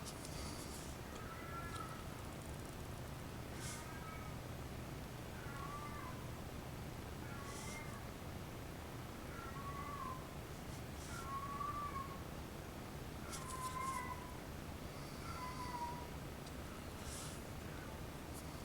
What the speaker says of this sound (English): that's my cat trying to convince me that he needs to be fed again.